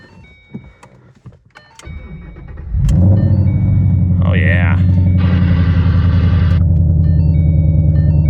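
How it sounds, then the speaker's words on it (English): A V8 car engine with 84,000 miles cranks and fires up, then settles into a loud, steady, deep idle with a rumbling low tone; someone speaks briefly over it. "Let's go ahead and start it, see what it sounds like, make sure it runs good."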